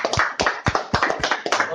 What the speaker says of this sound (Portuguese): Mais uma vez, aplauda o Senhor Jesus.